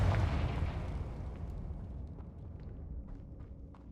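A Confringo blasting spell exploding in Hogwarts Legacy: a faint, low boom that bursts at the start and rumbles as it decays over a few seconds, with scattered small crackles and pops in the tail.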